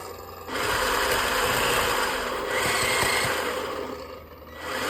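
A Tamiya 1/16 Sherman Easy Eight RC model tank runs with a steady, loud mechanical whir and electronic engine rumble that holds for several seconds, easing slightly near the end.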